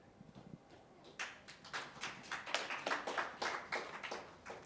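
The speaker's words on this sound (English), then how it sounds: "keep clapping, guys" An audience at a Govtech conference claps, starting faint then swelling into a dense round of applause that keeps going for several seconds, heard in a room without anyone speaking over it.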